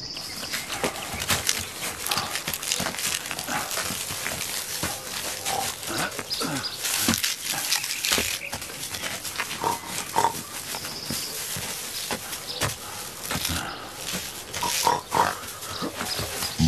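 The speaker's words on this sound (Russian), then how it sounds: "Подранок. Уходит, кабан." Wounded wild boar squealing and grunting in shrill, frantic bursts, loud and close, continuing almost without pause through the stretch amid rustling scuffle.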